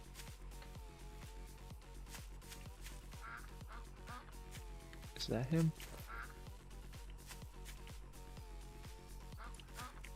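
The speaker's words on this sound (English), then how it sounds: "There's a duck. Where you at, ducky? I hear him over here." Duck quacking inside the farming survival game Night of the Dead, a short burst of quacks rising briefly over steady looping music, with someone talking in the clip.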